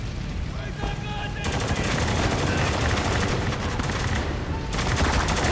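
Sustained, loud automatic gunfire in the shooter Spec Ops: The Line, rattling almost nonstop for several seconds with dense overlapping bursts and battle noise, close and dominant.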